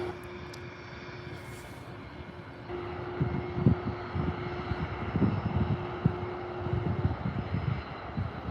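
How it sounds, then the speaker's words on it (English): Cargojet airplane passing at Calgary airport, a steady distant engine roar with a faint whine, heard with closer intermittent knocks and rustles near the microphone. "And here goes cargo jet."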